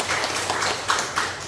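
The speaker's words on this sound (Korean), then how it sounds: "우리 박수 한번 해주시죠" A church congregation applauds during a Sunday service, a steady wash of many hands clapping together, fairly close and even, with no voices.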